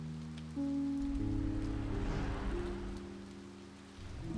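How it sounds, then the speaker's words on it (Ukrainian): Rain falls in the video game Finding Paradise as a steady hiss over sustained musical tones, continuous and fairly loud, with no talking. "Так, пішов дощик."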